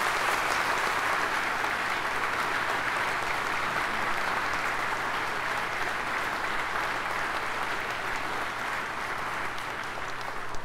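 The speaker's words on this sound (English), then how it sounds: "let's give a round of applause to the Mississippi National Guard" Sustained applause from a large audience honoring the Mississippi National Guard Color Guard at a governor's inauguration ceremony, an even wash of clapping with a low steady hum beneath, holding for about ten seconds.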